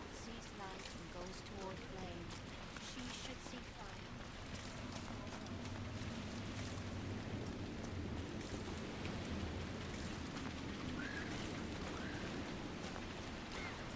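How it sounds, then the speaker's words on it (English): Steady rain in Crestwood, a perpetually wet region in the video game Dragon Age Inquisition, forms a constant dense hiss beneath a voice, with scattered game sounds like hooves or footsteps layered in. "it rains basically the whole time here."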